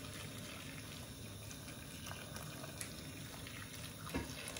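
Boiled water poured into a pot of Caribbean okra soup with green banana, a soft continuous trickling and splashing at low volume, fairly close, with no talk over it.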